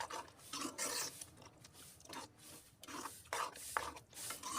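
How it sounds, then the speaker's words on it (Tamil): A spoon stirs chickpea sundal gravy in a pot, scraping and clinking against the metal in quick irregular strokes, close up and without talk. "உள்ளே சேர்த்து நல்லா மிக்ஸ் பண்ணி விட்டுடலாங்க."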